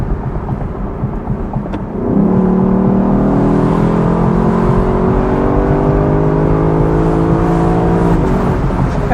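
A 2024 Lexus LC 500 Convertible's V8 revs hard under acceleration, a loud, close, rising engine note climbing steadily for several seconds, with no talking over it.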